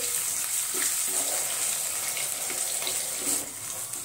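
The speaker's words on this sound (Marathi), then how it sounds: "इथे आपण बटाट्याच्या फोडी त्यामध्ये परतून घेऊ।" Cut pieces of two potatoes sautéing in a pan over a medium gas flame for fasting-day varai upma, a steady hiss and sizzle with a few soft scraping stirs, close and continuous.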